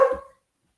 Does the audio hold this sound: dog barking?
yes